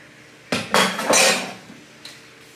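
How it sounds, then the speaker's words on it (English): A spoon clinks and scrapes against a cup of hot water while stirring, a short burst of bright metallic rattling with a couple of softer taps afterward, close and alone. "Just going to stir it up."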